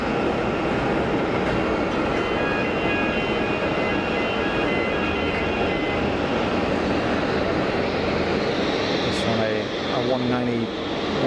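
A Dolomiti Embraer 195 jet airliner roars steadily at Geneva Airport, with a broad, continuous engine rush heard from a distance and people talking over it.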